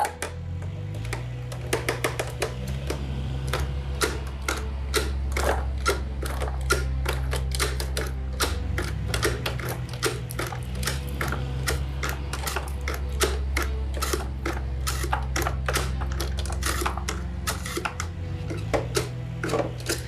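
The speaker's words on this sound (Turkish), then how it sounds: "Kemirme makinesi çalışma zamanı." A cartoon gnawing machine chatters in fast, relentless mechanical clicks like a typewriter over a low droning motor hum, loud and continuous throughout.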